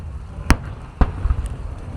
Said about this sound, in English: Come here, look at the fireworks.